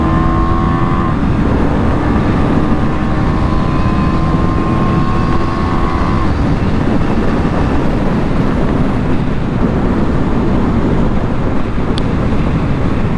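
A motorcycle cruising along an open road gives a loud, constant engine drone buried in heavy rushing wind noise, steady throughout with no talking.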